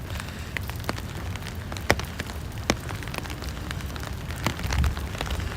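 Rain falls steadily on a Brooklyn street after midnight, a dense, even hiss with scattered sharper drips and taps close by, and no voices.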